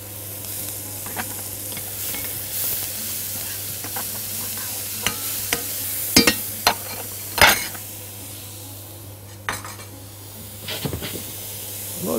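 Onion and garlic frying in ghee for a meat and vegetable tagine, a steady sizzle with scattered clinks of a spoon stirring against the pan, close and fairly loud, no talking.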